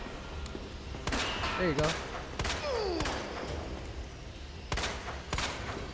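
Rapid bursts of gunfire in the Resident Evil 2 video game, several loud sharp shots clustered in volleys with gaps between, mixed with in-game thuds and people talking over the action.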